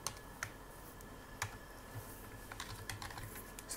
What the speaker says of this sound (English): So let's type in our file path.